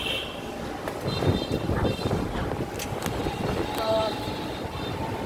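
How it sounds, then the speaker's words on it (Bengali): A strong Kalbaishakhi storm wind roars steadily and close against the microphone, buffeting it in gusts with scattered rattling. "তীব্র বাতাস অবস্থা খারাপ"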